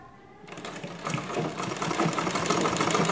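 A sewing machine starts up after a quiet moment and stitches a newborn baby's diaper pad, its close, rapid mechanical whir building and then running steadily to the end.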